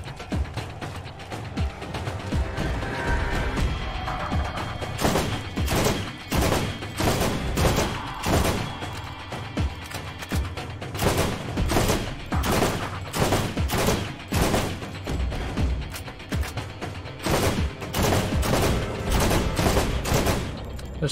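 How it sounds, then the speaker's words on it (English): A Gatling turret fires in the Borderlands video game, its rapid, steady bursts of mechanical shots rattling on loud and close for a long stretch. "I didn't know there was another Gatling turret. These things were too strong."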